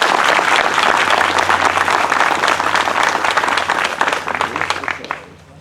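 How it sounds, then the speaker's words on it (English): A concert audience at a performance at Miners claps in a dense, sustained round of applause for those who served, steady and loud before tapering off and fading near the end. "give all those who served one more round of applause"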